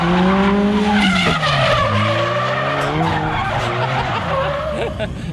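A car drifting on a track at Norwell Motorplex, its tires skidding and squealing in long sweeping pitches with the engine revving loudly and close throughout.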